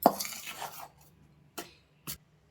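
A spoon clatters against a bowl while hot ghee is mixed into murukku dough: a cluster of scraping clinks, then two short, sharp taps with quiet gaps between, close and fairly soft.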